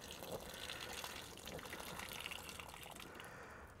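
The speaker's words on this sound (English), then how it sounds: "when you pour that out, you'll see it comes out really cloudy" Cloudy soaking water poured off rice in a kitchen, a faint continuous splashing trickle of liquid streaming out, quiet and steady with no talk.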